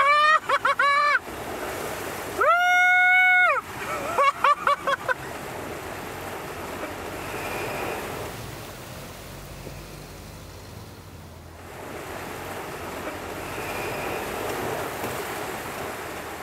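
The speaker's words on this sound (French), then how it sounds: "Premier passage de rivière avec la Volvo." Volvo car fording a small river, with a sustained broadband wash of water and splashing through most of the passage, preceded by brief bursts of tonal sound and speech near the start.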